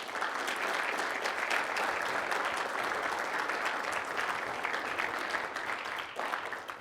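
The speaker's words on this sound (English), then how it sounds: "you want to stand up so we can give him a warm welcome with an applause?" Steady audience applause welcoming a guest at a Weslaco High School Army signing event, a dense, even wash of many hands clapping throughout, fading slightly at the end.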